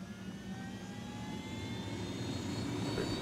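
A helicopter in the video game Ghost Recon Wildlands drones with a steady, loud engine roar that swells slightly over a few seconds, with no talking.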